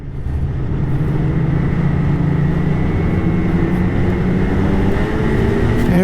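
A Polaris snowmobile runs through deep powder, a loud, steady engine drone with a rising whine near the end, heard close from the rider's position with no voices.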